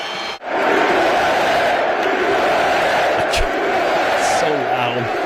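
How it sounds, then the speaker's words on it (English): A loud arena crowd roars and cheers at the NCAA Wrestling Championships, a dense, sustained wall of noise that starts after a brief dip and holds steady, with shouts and whoops rising out of it. "That crowd is going nuts for him."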